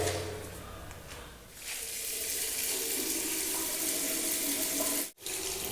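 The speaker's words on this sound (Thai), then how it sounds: "ลองดูนะท่านผู้ชมนะจะลองเปิดน้ำดูก่อน" Water runs steadily from a bathroom sink faucet, a loud continuous hiss and splash that swells after a quieter start and cuts out sharply for a moment near the end.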